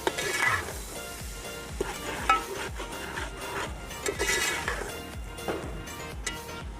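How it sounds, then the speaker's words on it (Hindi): Cumin, cloves and spices being stirred and fried in a pan, with continuous sizzling and repeated scraping strokes of a spoon against the pan, close and fairly quiet. "अब इसको अच्छी तरह मिक्स करके इसको मसाले को ज़रा फ्राई करेंगे।"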